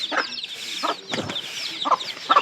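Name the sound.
chicken chicks clucking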